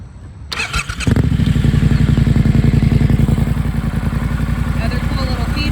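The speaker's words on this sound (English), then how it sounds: "you press and hold to start" A 2019 Triumph Scrambler 1200 XE motorcycle engine starts with a brief starter whir, catches loudly and settles into a close, steady, throbbing idle.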